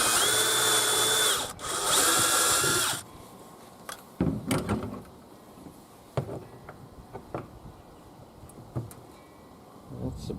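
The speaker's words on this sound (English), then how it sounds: "These step drills are kind of nice." A power drill with a step drill bit whines loudly through a hole for a few seconds, then cuts out, leaving scattered clicks and handling knocks at lower level.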